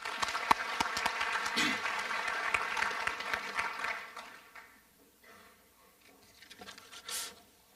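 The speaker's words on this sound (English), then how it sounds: "Let's give them a warm round of applause." An audience applauding at a youth human rights awards ceremony, steady clapping for several seconds that fades out, followed by quiet room sounds.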